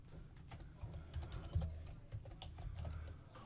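Rapid keystrokes on a computer keyboard as a table name is entered, a steady run of close, crisp clicks with a slightly heavier press near the middle, no voices.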